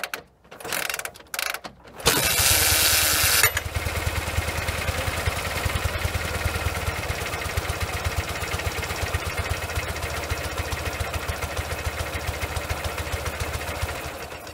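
A rebuilt Ural motorcycle engine with a troublesome left cylinder starts after a few rough bursts, then settles into a steady, close idle with a rapid mechanical clatter and even chugging throughout.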